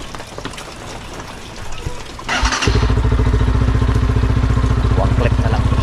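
A motorcycle engine starts after a couple of seconds of noisy outdoor rustle near a farm field, then settles into a loud, close, steady idle with an even thumping rhythm as it warms up.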